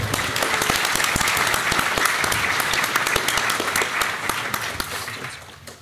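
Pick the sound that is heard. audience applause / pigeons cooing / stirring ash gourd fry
audience applause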